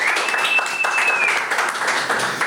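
Steady applause from a crowd, dense and sustained throughout, with a faint high tone drifting across the middle.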